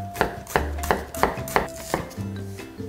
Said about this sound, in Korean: 양파는 그냥 채 썰어 주시면 되겠습니다.